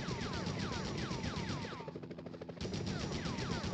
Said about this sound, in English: Enough with the shooting already!